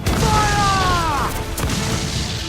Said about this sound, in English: Those cannons have a long reach.